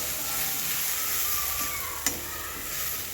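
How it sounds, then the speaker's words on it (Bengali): Paste of ground pea pods and garlic frying in oil, a steady close sizzle with soft stirring and one brief click, no voices. "মটরশুঁটির পেস্ট দিয়ে তেলের মধ্যে খুব ভালো করে ভেজে নেব"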